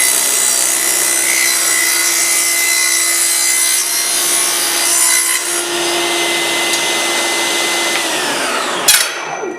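A Festool CS70EV portable table saw rips a bevel cut through wood, a loud, steady whining cut with the blade straining, then spinning down near the end, with no talking.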